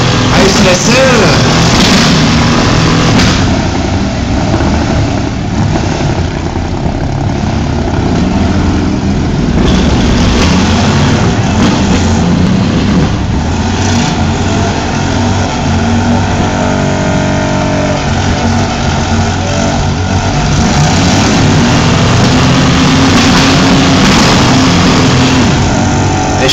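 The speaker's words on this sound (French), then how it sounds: "le 6 cylindres que je parlais, qui roule encore." Six-cylinder cars revving and roaring continuously at a St-Antonin 2010 free-for-all event, loud engine noise throughout with crowd voices mixed in.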